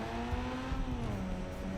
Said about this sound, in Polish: Ale ten silnik ryczy, słyszycie to?